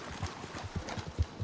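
Horse hooves clip-clopping in Red Dead Redemption II, a quick, soft, even run of hoofbeats at low volume with faint background noise.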